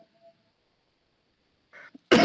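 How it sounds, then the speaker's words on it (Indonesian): A short, close cough lands at the very end after mostly quiet room tone, with a couple of small throat sounds just before it. "Mohon maaf, saya batuk, ya."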